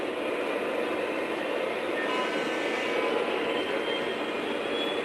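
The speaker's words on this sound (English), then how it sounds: "Trying to back this train out." A Lionel or MTH O-gauge model train backs up on a Conrail-themed layout, giving a steady, even motor whir and rail rumble that holds at moderate level throughout with no voice over it.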